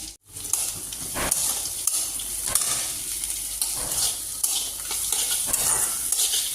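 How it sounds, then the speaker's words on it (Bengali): Flattened rice (poha) frying in a pan with mustard seeds, curry leaves and peanuts: a steady close sizzle broken by repeated stirring scrapes, with no talking. "সরষা দিছি, কারি পাতা, বাদাম ভাজা নিচ্ছি"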